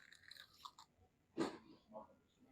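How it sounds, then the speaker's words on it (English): A crunchy fried chicken wing bitten into close to the mic, giving one sharp crunch between quiet mouth and breathing sounds. "Nice crunch on the outside, juicy in the center, the way I'd expect a chicken wing to be."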